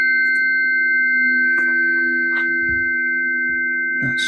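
Tuning forks hum with steady, pure sustained tones layered together, ringing evenly throughout at moderate loudness, with a few faint clicks and rustles nearby.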